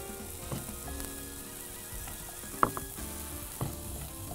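Diced cucumber, tomato, avocado and caramelized onion are stirred together in a pan. Quiet, intermittent scrapes and a couple of light knocks sit over a faint continuous hiss, with no talking.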